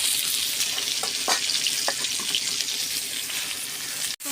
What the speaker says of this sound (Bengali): টমেটো আলুটা আমার ভালো করে ভাজা হয়ে গেছে